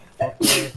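A single close sneeze during an online battle-royale game session, short and sharp, preceded by a brief vocal sound and followed by a murmur of talk.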